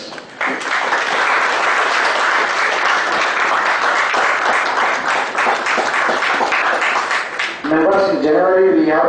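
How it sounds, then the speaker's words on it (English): Loud, sustained applause fills a seminar hall on GST updates as the audience claps steadily for several seconds, before a voice begins speaking over the fading clapping near the end. "Big applause to members."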